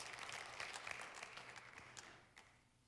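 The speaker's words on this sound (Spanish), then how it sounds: "Dale un aplauso a mi Señor por eso" A church congregation applauds in praise during a sermon, many hands clapping in a lively, uneven patter that gradually thins and fades toward the end, quite faint overall.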